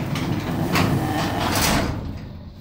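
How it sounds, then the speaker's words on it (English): A door in an abandoned house is pushed shut with a scraping, sliding sound, loud and close, and the noise stays level for about two seconds before it fades. "Shutting the door now."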